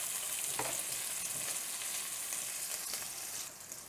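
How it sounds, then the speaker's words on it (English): Andouille sausage sizzling in a pan during cooking for a Cajun pasta, a steady, close hiss of frying fat with a few faint pops and clicks, with no voices. "And as these andouille sausage cook, you just want to flip them around as they go."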